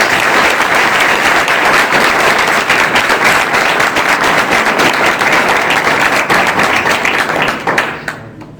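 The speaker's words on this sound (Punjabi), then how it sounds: "ਜੋਰਦਾਰ ਤਾਲੀਆਂ ਪਰਮੇਸ਼ਰ ਦੀ" A church congregation bursts into loud, dense applause after a testimony, many hands clapping steadily at close range for several seconds before the sound tapers off abruptly at the end.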